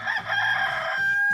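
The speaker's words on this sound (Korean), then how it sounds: "이제 모든 사람들의 시선은 푸드덕거리며 관아마당을 돌아다니는 닭에게 향했습니다" A chicken in the courtyard of an old government office lets out a loud, sustained crowing call with a drawn-out, steady tone, heard up close with no voices.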